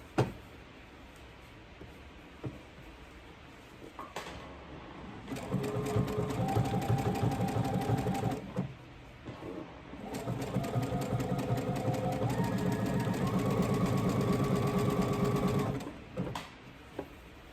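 A home sewing machine stitches a seam on a raglan shirt in two bursts of fast, steady whirring and needle chatter, separated by a short pause and closing with faint handling clicks.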